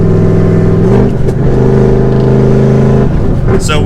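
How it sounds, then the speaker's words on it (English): Supercharged V8 engine of a Ford Mustang GT, loud and close, holding a deep rumbling idle with a brief blip of revs and a short rise in pitch near the end. "with a supercharged car, you're gonna get that full smooth power band the whole way"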